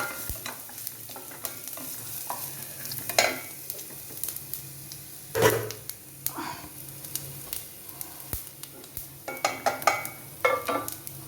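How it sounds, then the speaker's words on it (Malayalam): Grated radish thoran is stirred through a hot pan with ginger and ground black pepper, a spoon scraping and clinking in irregular strokes over a soft background sizzle. "ഇനി നമുക്ക് നമ്മുടെ റാഡീഷ് തോരൻ ഇതിനകത്തേക്ക് ഇട്ടിളക്കാം"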